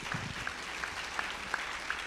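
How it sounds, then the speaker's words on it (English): Audience applause at a sisterhood general meeting, a steady wash of clapping with a few louder individual claps sounding in a regular rhythm through the two seconds. "Give HHMI a round of applause for that."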